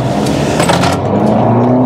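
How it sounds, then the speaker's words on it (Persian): Mercedes-Benz CLA compact sporty car driving along, its engine hum and road noise steady and close from inside the cabin, with a brief rise in whooshing air partway through. "خب حالا میایم سراغ رانندگی این ماشین ببینیم"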